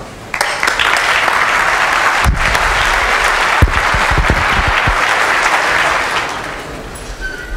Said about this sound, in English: Have a big warm applause for Mr.